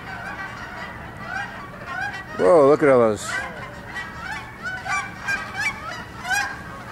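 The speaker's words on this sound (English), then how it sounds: "You can hear the ducks in the background." Geese honking as they fly past outdoors, a burst of loud overlapping calls in the middle with fainter honks scattered before and after, under a brief spoken remark.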